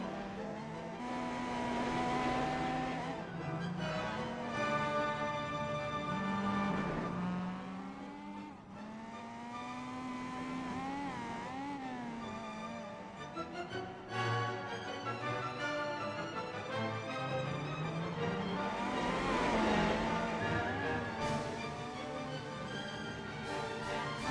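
A race car drives on a track in the video game Gran Turismo 4, its engine droning steadily and rising and falling as it revs, with tire squeal and skidding now and then and no talk over it.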